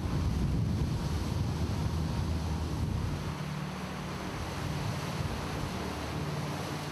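Atlantic Ocean waves and wind on open water: a steady, even roar of surf and gusting wind noise, continuous and moderately faint with no voices.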